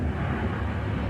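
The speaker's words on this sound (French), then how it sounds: "Ça, c'est un avion." An airplane passes overhead outdoors as a steady, low, broadband rumble. It is fairly distant and heard alone, with no talking.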